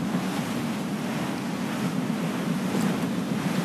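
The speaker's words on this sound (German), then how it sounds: "Es weht ein steifer Wind." Wind and ocean waves at sea in Assassin's Creed 4: Black Flag form a steady rushing wash with a low rumble of surf, continuous and moderately quiet, with no talk.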